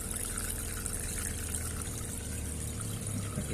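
Aquarium water pump and filter running, a steady close wash of trickling, bubbling water with a low constant hum beneath it.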